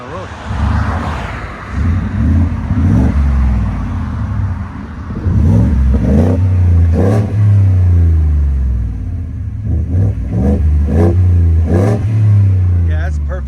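A pickup truck's engine revving through a Borla exhaust, loud repeated throttle blips with a deep rumbling tone close by, people talking over and between the revs.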